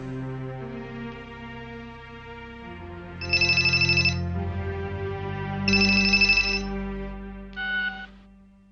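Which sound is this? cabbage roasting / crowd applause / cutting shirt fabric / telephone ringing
telephone ringing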